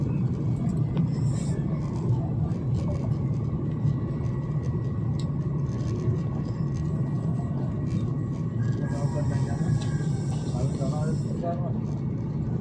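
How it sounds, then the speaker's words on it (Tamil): Steady, loud engine roar and cabin rumble of an airplane taking off from India, a continuous low drone filling the whole stretch while a person talks over it. "ஃப்ளைட் பறந்துருச்சு"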